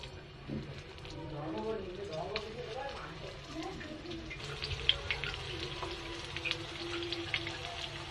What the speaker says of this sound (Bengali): চপগুলো এক পাশ ভাজা হয়ে গেছে।